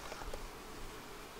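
Honey bees buzz around an opened Flow Hive during a honey harvest, a faint, steady drone with individual bees passing close by.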